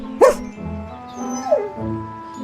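A dog in a children's fable gives a short yip and then a softer whimpering bark, close and clear, with no talk over it.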